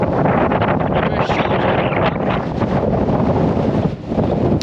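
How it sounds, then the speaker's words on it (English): Strong wind roars across a hilltop in the Shropshire Hills, buffeting the microphone in a loud, continuous rush with gusting surges and a brief dip near the end. "there's the wind. So that's the wind there."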